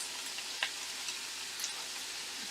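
Meat fries in a pan while chives and herbs cook alongside, a steady close sizzle with a few soft clicks of stirring and no talking.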